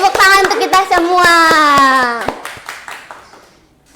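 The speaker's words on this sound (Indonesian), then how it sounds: "Tepuk tangan untuk kita semua." A classroom group claps together in a microteaching lesson, sharp rhythmic hand strikes mixed with young voices chanting in unison, then a few trailing claps as the sound dies away.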